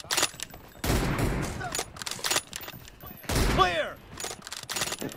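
Bursts of gunfire in PUBG Mobile crack out in short volleys, some loud and close, others fainter, between gaps of quieter game noise.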